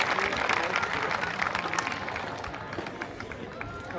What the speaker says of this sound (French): Oui, ça mérite des applaudissements